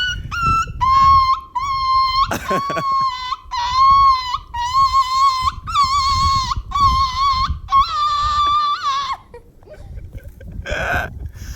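A voice imitates a dog with a string of drawn-out, whiny yelps and howls, repeated about nine times in close succession, loud and near.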